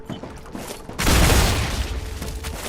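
Sci-fi gunfire in the StarRupture video game erupts after a quieter lead-in as a dense, loud burst of rapid shots and booms that keeps roaring to the end.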